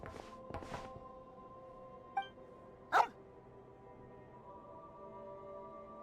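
A small dog in the video game Genshin Impact gives a couple of sharp yips or barks, faint and brief against quiet game ambience with soft background music.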